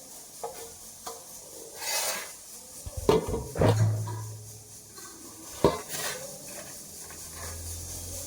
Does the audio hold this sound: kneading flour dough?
yes